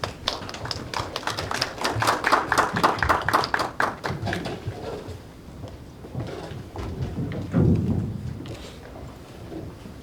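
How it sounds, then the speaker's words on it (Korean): A seated audience at a startup showcase event claps to welcome a company presenter, a dense run of brisk applause that peaks early and then thins out into scattered faint claps and room noise. "박수로 모시겠습니다."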